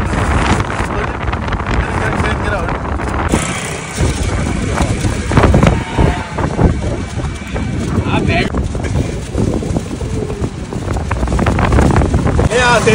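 Strong wind buffets the microphone by the sea near the Myanmar border, a constant loud roar with gusts throughout while a person talks over it.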